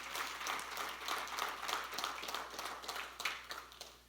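Church congregation applause, fairly faint, with rhythmic clapping pulses under a low steady hum.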